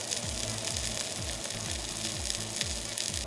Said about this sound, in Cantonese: 用慢火煎一煎香個漢堡扒先